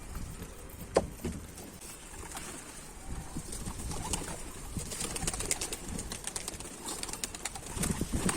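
Pigeons in a loft, Akkanat and white-tailed birds, coo softly against a quiet background. One sharp knock comes early, and faint rustling and wing sounds build toward the end.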